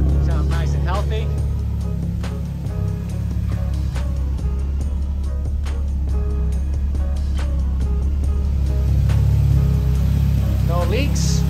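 Car engine fitted with a new EFR 8370 turbo, stage 8 parts and a stock long block, idling with a steady low rumble and some ticking, while a person talks over it throughout.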